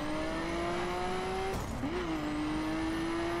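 Nissan Skyline R34 GT-R engine in the racing video game The Crew, a loud, steady drone that drops sharply as the car shifts gear, then climbs again as it accelerates, with no talk over it.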